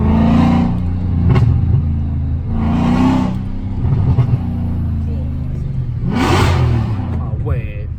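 A Mercedes C63 AMG Black Series W204 engine rumbles loudly up close and revs in three sharp bursts over a deep idle, with people talking in between.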